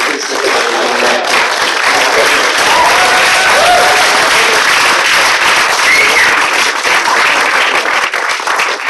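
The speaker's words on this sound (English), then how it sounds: "Give them all a round of applause. That was fantastic." A festival audience at a horror film Q&A with directors breaks into loud, sustained applause, a dense close wash of many hands clapping that holds steady for several seconds, with a few faint voices mixed in.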